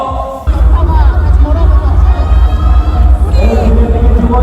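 A loud crowd cheers and shouts at a CrossFit competition in Jeju, the roar surging after a brief quieter opening and holding steady, with voices mixed into the din.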